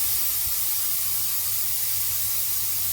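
Steam hisses steadily from a pot of food cooking in a home kitchen, close and continuous, with no speech.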